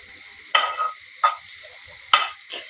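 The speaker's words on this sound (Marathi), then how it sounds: "आता आपल्याला पॅनवर बटर टाकून घ्यायचंय." Butter melting in a pan for Mumbai-style pav bhaji, with a few separate bursts of close sizzling and stirring scrapes spaced by quiet gaps, no talking.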